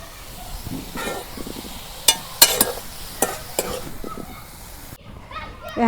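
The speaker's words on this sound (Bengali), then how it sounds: "এখন শাকগুলো আমি বাগার দেবো।" Sweet pumpkin leaves stirred in a pan while cooking with fish: scraping and clattering strokes over a low hiss and sizzle, with sharp metallic knocks and a sudden drop to quiet near the end.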